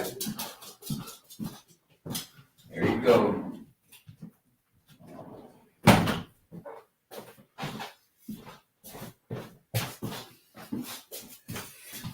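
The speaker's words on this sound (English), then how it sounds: "My dog wants my attention." A dog at home whimpers and yips to be let outside, giving a string of short, close whines and soft barks with brief breathy pauses, loud and alone.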